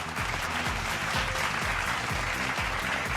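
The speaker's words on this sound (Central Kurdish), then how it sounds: "بە چەپڵەیەک با فەرمۆن" Applause from an audience welcoming guests at a contest among artists, a steady dense clapping that holds at moderate level throughout.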